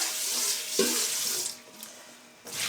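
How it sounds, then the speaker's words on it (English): Cold tap water runs steadily into a bowl at a kitchen sink, a continuous broadband splashing rush with a brief clunk midway, then thinning before a final burst of flow; no talking. "I'm gonna get a couple of bowls filled with cold water."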